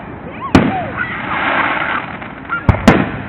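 Fireworks burst at night in a few sharp, loud booms, one early and two close together near the end, with whistling and crackling between and voices faintly present.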